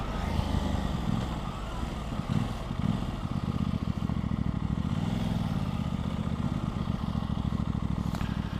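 An Aprilia RS660 sport motorcycle fitted with KTech suspension is ridden on a road, its engine humming steadily and loudly throughout with a continuous, even drone and slight shifts in pitch.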